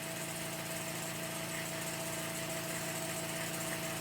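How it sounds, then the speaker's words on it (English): A small 'silent' air compressor set up for airbrushing a truck hood runs with a steady low mechanical hum and faint rattle, constant and unbroken throughout, no speech. "got a nice little compressor over there. It's supposedly like a silent one"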